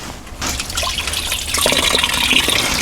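Water gushes from a rain barrel spigot into a watering can, a steady splashing pour that grows fuller and louder, close by with no talking.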